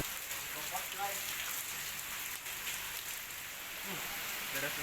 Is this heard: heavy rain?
yes